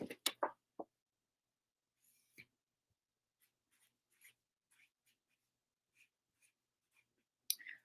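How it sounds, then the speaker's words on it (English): A pen writes on a list in a quiet room, with a few faint scratchy strokes and light clicks scattered after a louder burst of handling noise at the start and a short rustle near the end. "And in fact, I need to write."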